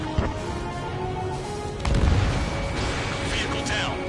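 Bombs exploding in the flight combat game Ace Combat 7, a sharp crack followed by a heavy low boom about halfway through, over engine drone and game radio chatter.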